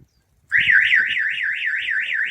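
Vehicle-style alarm on a DIY work trailer going off, a loud, steady warbling electronic siren that starts abruptly and rises and falls in a fast repeating sweep, heard alone.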